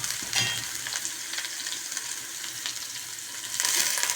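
Sliced bitter gourd and egg sauté in a pan, a steady close sizzle with crackles and soft stirring scrapes, swelling louder toward the end, no voices.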